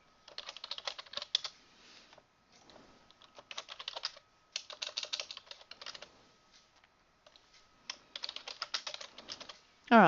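Fingers type section names on a computer keyboard in quick bursts of close, crisp key clicks separated by short pauses, running through the whole stretch.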